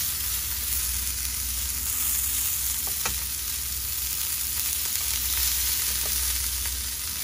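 Scallops sizzle in a frying pan over fairly high heat after being flipped, a steady close frying hiss with a few small pops, no voices.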